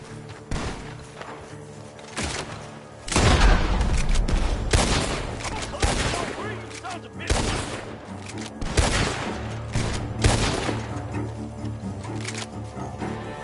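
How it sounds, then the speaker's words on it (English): Gunfire in the video game Red Dead Redemption 2, with loud bursts of shots and volleys echoing in clusters over a low background rumble. "gunshots are coming from that..."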